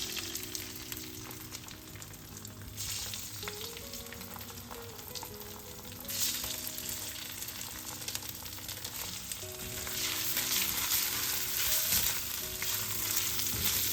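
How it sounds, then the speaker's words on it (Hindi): Rice fries in ghee, a steady close sizzle and crackle that swells slightly as grains are stirred in the pan, continuous with no talking. "चावल को 2 मिनट के लिए भूनेंगे घी में।"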